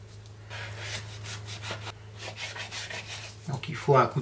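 A knife slices through the thick hide of a boned calf's head with steady, close rubbing and scraping strokes, a few sharper scrapes near the end.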